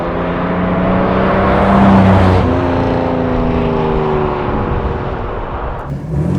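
Classic 1958 Jaguar XK 150 drop head coupé with its 220 hp 3.8-litre engine, running close by with a steady rumble that swells in a rev near the two-second mark and then settles back, heard alone without talk.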